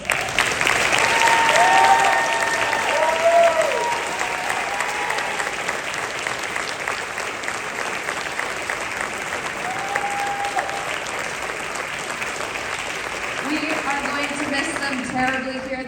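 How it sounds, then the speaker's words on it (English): Steady, loud audience applause honoring the graduating seniors of a jazz ensemble at a concert, a dense crowd of clapping sustained throughout, with a few voices calling out briefly over it. "can we give them a round of applause?"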